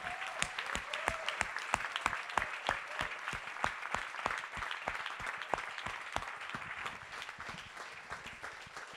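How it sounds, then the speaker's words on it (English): Applause from an audience at closing remarks of an event, a steady run of distinct, fairly evenly spaced claps with a softer crowd patter behind, moderately distant and alone without talk. "So everyone here, I just wanna give you a round of applause."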